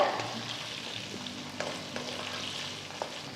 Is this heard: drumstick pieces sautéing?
yes